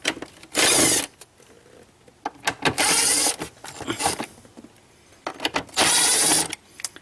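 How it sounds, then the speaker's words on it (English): A power driver with a T20 Torx bit runs in three loud whirring bursts while removing bolts from the air filter housing of a BMW X6, with clicks and handling noises between bursts. "So this uses a T20 Torx to get all the bolts off."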